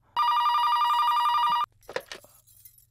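A telephone rings once in a long, loud electronic tone lasting about a second and a half, close and clear, then cuts off and a few brief voice sounds follow.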